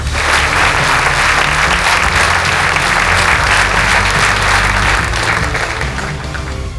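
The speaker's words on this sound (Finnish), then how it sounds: "hyvä yleisö, toivottakaa lavalle tervetulleeksi aivan mahtava, aivan loistava Teemu Westerinen." A stand-up comedy crowd at a sold-out show applauds steadily as comedian Teemu Vesterinen is welcomed to the stage, a dense, sustained wash of clapping that holds loud throughout and eases only slightly at the very end.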